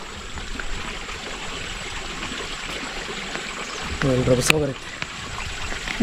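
Water rushes and trickles in a steady, broadband wash, close by, with a brief voice breaking in for a moment near the end.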